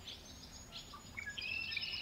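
Cartoon birds chirp in a kids' song show, giving a few faint, thin tweets over quiet background hiss.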